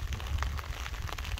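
Heavy monsoon rain pours steadily over a house yard, a dense, continuous hiss with scattered drop impacts and low rumble, no voices.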